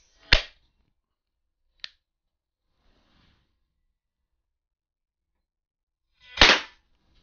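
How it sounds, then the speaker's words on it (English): Stoeger XP4 single-stroke pneumatic .177 pellet pistol fired twice, each a sharp close snap several seconds apart, with a faint click in between and silence around. "I shot a little low"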